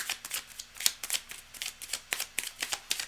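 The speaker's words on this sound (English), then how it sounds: "I'm just shuffling it up really clear so that you have a fresh, clean deck" A deck of cards, likely tarot or reading cards, being shuffled close up in a rapid run of crisp riffling bursts and soft flutters, with no voices.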